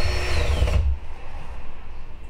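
A power drill bores holes for a Minn Kota Ultrex trolling motor mount, whirring loudly and close for about a second before cutting off into quiet room noise.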